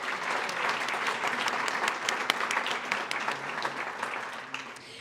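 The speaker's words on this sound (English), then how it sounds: "Please give them a round of applause for hosting us tonight" An audience at the Elmhurst Chamber Awards Gala claps warmly for several seconds, a full, even round of applause that eases off near the end.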